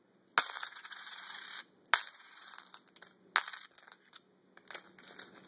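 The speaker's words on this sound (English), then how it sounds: "I'm going to drop some coins on this. This will be loud." Coins dropped one handful at a time onto the Gorilla Glass screen of a Droid X phone, four sharp metallic clattering impacts with brief rattling tails, close and fairly loud, no voices.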